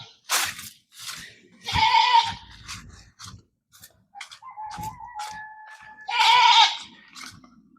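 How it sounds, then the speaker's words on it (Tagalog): Several goats bleat loudly in repeated, wavering cries close by, with short gaps between calls and one long nasal bleat near the end. "Ingay ng mga kambing."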